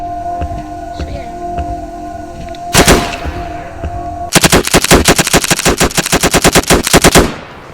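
Gunfire in a Roblox shooter: one short burst, then a long rapid run of loud, evenly spaced automatic shots close up, over a faint steady hum.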